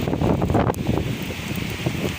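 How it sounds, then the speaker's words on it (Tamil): Strong cyclone winds buffet the microphone in Chennai, a loud, continuous gusting roar with rustling and rumble throughout, no voices heard. "காற்று பயங்கரமாக அடிக்குது"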